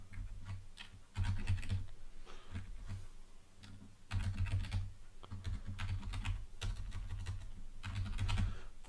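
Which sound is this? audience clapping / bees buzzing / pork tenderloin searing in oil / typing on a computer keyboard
typing on a computer keyboard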